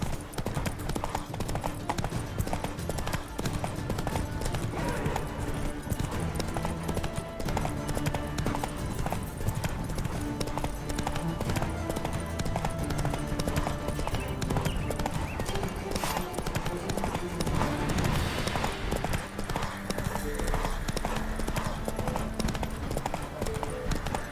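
A horse galloping in the video game The Witcher 3, a continuous rhythmic clip-clop of hooves running under music and scattered talk, steady and fairly close throughout.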